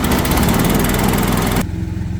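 A Harbor Freight gas-powered air compressor engine runs loud and close with a rough, rapid pulsing chug that drops sharply in its high end near the end, while a low rumble keeps going, with no speech.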